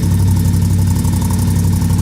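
A Can-Am 570 XMR engine fitted with an HMF Titan QS exhaust idles close by, making a loud, steady low rumble with a gentle pulsing throb and no talking.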